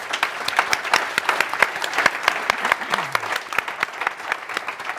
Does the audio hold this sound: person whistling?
no